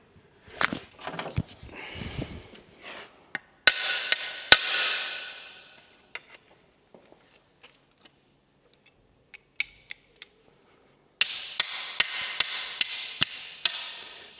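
Hammer blows knocking rivets out of a plate on a Scania R580 V8 truck, a run of sharp metallic strikes in bursts with pauses between, close and fairly loud, ending in a rapid cluster of hits.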